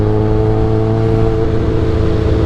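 A motorcycle engine lugging at about 3,000 RPM in sixth gear, a steady, loud low drone close by with no voices.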